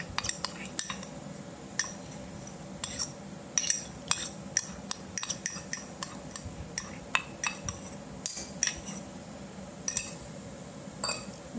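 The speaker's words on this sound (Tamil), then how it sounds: "போட்டுட்டு நல்லா எல்லாமே கலக்கிற மாதிரி நல்லா வதக்கி விட்டுக்கணும்." Ground masala paste stirred in oil in a pan for spicy mutton kulambu, with repeated sharp metal spoon clinks and scrapes against the vessel over a low background sizzle, close and irregular.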